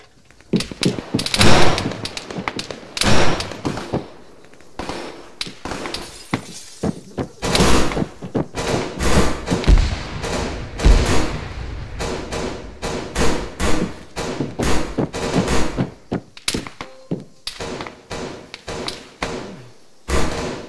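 Gunfire coming from the beach in the video game Argo, dense bursts of rapid automatic shots and heavy thuds, loud and close, lasting throughout with no talk.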